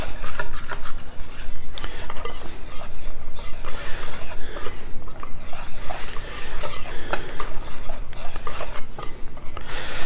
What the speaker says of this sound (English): I'll whisk these flours together, mix them up.